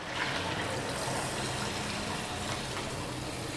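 About one and a half glasses of water are poured into a pan of cooking nargisi egg kofta, a continuous gushing pour that stays even throughout with no voices.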